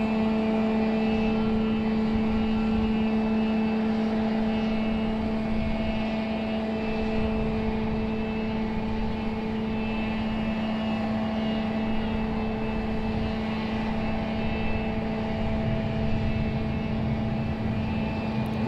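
A Sun Country airliner moves on the ground at Raleigh-Durham airport, its engines giving a steady, loud, tonal drone that holds evenly throughout with no breaks.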